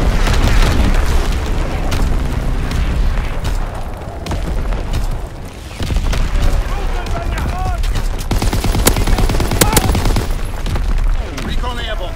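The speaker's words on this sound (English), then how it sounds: "Incoming enemy artillery" Incoming enemy artillery hits in the Call of Duty WWII video game, with loud repeated booms and bursts of gunfire layered in a dense, continuous battle din while voices call out.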